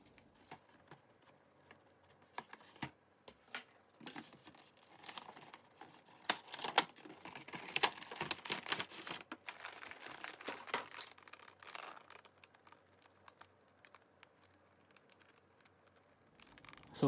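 Cardboard and plastic packaging of an SH Figuarts Majin Buu action figure being opened by hand, with irregular crinkling, tearing and tapping sounds, mostly faint and close, growing busier in the middle.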